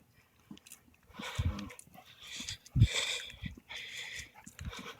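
A dog out on a walk gives a few short, fairly faint barks and whimpers, mixed with a voice and outdoor movement.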